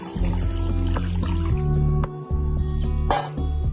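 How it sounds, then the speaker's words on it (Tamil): Water is poured into a cooking pot for kabsa rice, dribbling and splashing in a fairly close stream under steady background music, with brief pauses between pours. "3 கப் அரிசிக்கு 6 கப் தண்ணி நான் ஊத்துவேன்"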